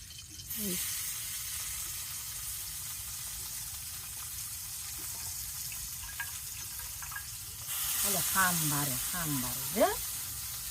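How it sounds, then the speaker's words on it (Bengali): Boiled bitter gourd frying in hot oil gives a steady, broad sizzle that runs throughout, with voices talking over it in the second half. "এখন তেল দিয়ে ভাজি করে নিব"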